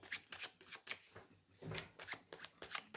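Tarot cards are shuffled close up in quick, soft riffling bursts, several in a row, quiet and crisp with no voices over them.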